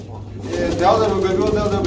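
A white King pigeon gives a low, throaty coo close by, rising briefly then trailing off, with faint background murmur.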